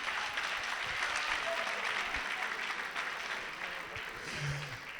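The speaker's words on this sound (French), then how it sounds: "C'est tous ces applaudissements pour quelqu'un qui a été fait chevalier?" Sustained applause rolls from an audience at a web festival panel for a guest who has been knighted, a broad continuous clatter of many hands with faint voices underneath.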